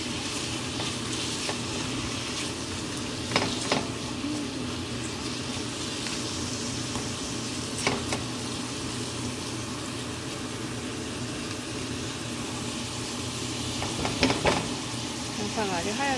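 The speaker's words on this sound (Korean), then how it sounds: "투명해질 때까지 볶아볼게요" Onions stir-fry in a pan with garlic and olive oil for a tomato pasta, giving a steady close sizzle throughout with occasional soft scrapes and clinks of stirring.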